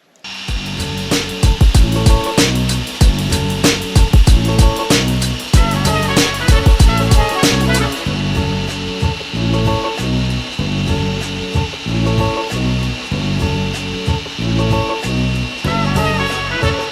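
Machine polisher with a microfiber pad and Koch Chemie polish working the paint of a BMW X3, a loud continuous whirring and grinding with repeated rhythmic pulses, close and steady throughout with no talk.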